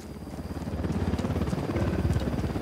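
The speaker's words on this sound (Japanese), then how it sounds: "ヘリコプターだ。" A helicopter approaches in the video game Ghost Recon, its rotor beating in a fast, steady rhythmic chop that grows slightly louder over a low engine drone, with no talk.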